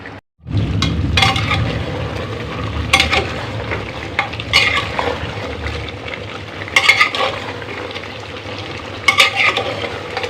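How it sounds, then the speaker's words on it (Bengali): Beef and potatoes sautéing in a pressure cooker pot make a loud, continuous frying sizzle close by, with a spoon scraping and clinking against the metal every couple of seconds. "আলু দিয়ে মাংসটা কষিয়ে নিচ্ছি"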